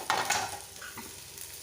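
Onions and curry leaves sautéing in a pan for egg parotta, a soft steady sizzle with a couple of stirring scrapes and light clinks, fairly quiet and with no talk.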